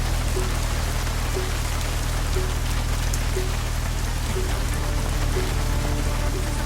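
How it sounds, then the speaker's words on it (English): Steady rainfall in the video game Deus Ex: Mankind Divided, a dense, even hiss of drops on surfaces that continues unbroken throughout, with a low ambient rumble beneath and no speech. "At least get us out of the rain."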